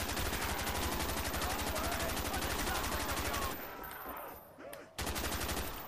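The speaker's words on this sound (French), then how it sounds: "on va tirer comme un bâtard" Rapid automatic gunfire from Call of Duty: Black Ops zombies on the Kino der Toten map, a loud continuous burst that breaks off briefly near the end and then resumes.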